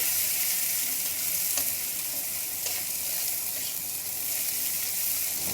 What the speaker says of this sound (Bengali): পেঁয়াজ এবং রসুনটা তেলের মধ্যে ভালো করে একটু নেড়ে চেড়ে ভেজে নেব।